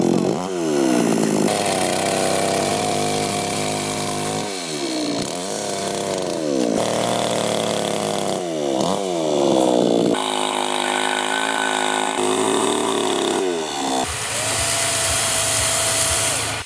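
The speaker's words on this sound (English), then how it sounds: "They decided to cut the skirt with a chainsaw from a piece of wood." A chainsaw revs and bogs down repeatedly as it cuts through a piece of wood, loud and close, its engine pitch dipping and rising in bursts throughout.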